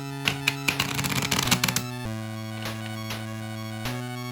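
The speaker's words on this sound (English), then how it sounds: "So we're gonna go ahead and shuffle them one time." A deck of tarot cards shuffled once, a dense burst of riffling flutter lasting about two seconds, followed by a few soft taps and card settles against a steady background hum.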